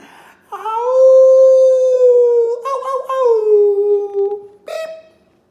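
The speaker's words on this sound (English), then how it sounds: "Coyote sat on his haunches and he howled." A long, wavering howl rises and slides downward, trailing off in a few breaks before a short final yelp; close and loud, no talking.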